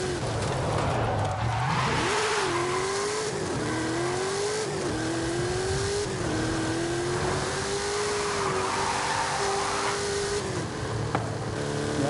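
A Golf GTI racing in Forza Horizon 5, engine revving up and down through gear changes with rising and falling pitch, loud and close, with tire noise underneath.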